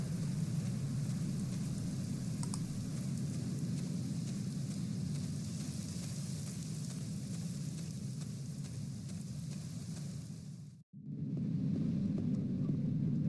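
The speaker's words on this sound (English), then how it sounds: "Let's go back into the building just to make this pitter-pat of rain go away." Steady rain patters in The Black Mirror adventure game, a constant low hiss and rumble that runs evenly, then cuts out abruptly near the end before a softer ambience resumes.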